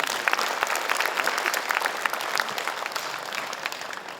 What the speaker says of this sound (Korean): 여러분 큰 박수로 환영 부탁드리겠습니다